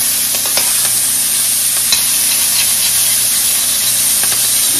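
Green cabbage leaves sizzle in a hot pot while a utensil stirs and scrapes the bottom, a steady loud frying hiss with faint scraping clicks throughout.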